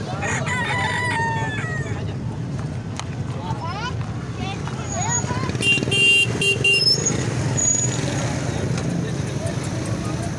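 Desi roosters crow amid a busy outdoor poultry market crowd, voices chattering throughout, with a nearby engine rumbling and a high electronic beep partway through.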